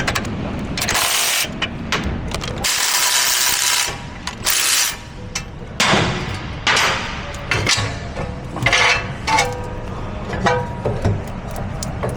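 A ratchet wrench with a 21mm socket works on the parking brake of a 2007-or-later Sprinter van, giving loud, close, rapid clicking in repeated bursts over steady workshop noise.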